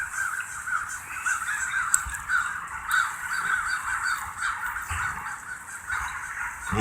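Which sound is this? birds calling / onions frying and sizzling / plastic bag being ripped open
birds calling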